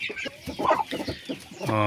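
A fighting rooster clucks in quick, irregular bursts close by, its calls mixed with rustling, ending in a sustained harsher vocal note.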